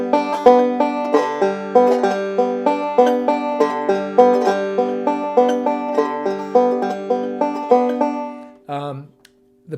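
A banjo picks rapid Scruggs-style forward roll patterns, evenly rhythmic and close, before stopping abruptly near the end.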